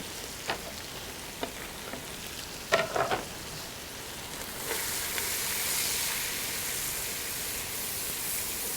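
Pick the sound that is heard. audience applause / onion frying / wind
onion frying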